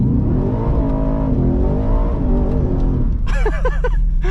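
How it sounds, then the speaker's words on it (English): A 700-horsepower Ford F-150 Raptor R V8 truck roars through a third-gear burnout, the engine droning loud and steady before revving up sharply near the end. "A third gear burnout in a 700 horse."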